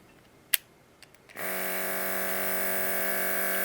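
A cordless Autolock auto airbrush switches on after a few faint clicks and runs with a steady, moderate electric whine and hum that holds evenly to the end.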